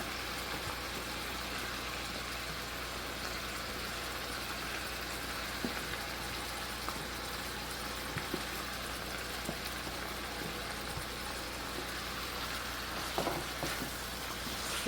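About two cups of leftover rice are stirred into sizzling beans in a pan, giving a continuous soft frying hiss with occasional scrapes and light clicks throughout.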